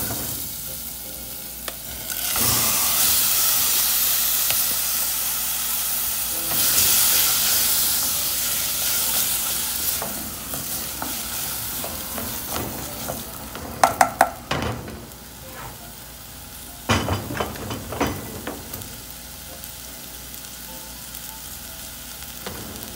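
Garlic sautéing in a pan for rice gives a steady close sizzle and hiss, swelling and easing as it is stirred, with a few sharp clinks of a utensil against the pan toward the end.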